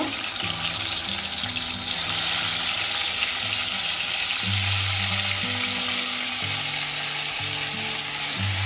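Partly cooked meat for a Bengali home-style biryani sizzles steadily in the leftover oil from frying potatoes, a constant hiss running the whole time over a low, stepping tonal hum, with no voices.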